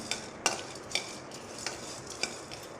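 Dried chillies and cinnamon frying in a pan for chicken kuzhambu: a soft, steady sizzle punctuated by about six sharp metallic clinks and scrapes of a spoon stirring against the pan, close by and without talk.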